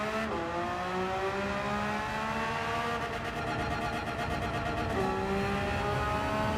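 Porsche race car engine in Gran Turismo 7, a steady loud high-revving drone with rising and falling pitch through gear changes, a sharp shift near the end, continuous and close with no talk.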